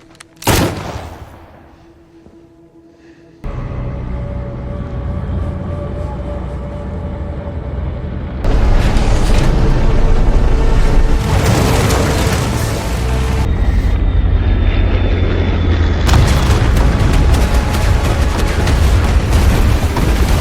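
Loud booming blasts from a large film explosion, followed by sustained roaring rumble and crackling debris, heavy and continuous, a big explosion with chaotic aftermath.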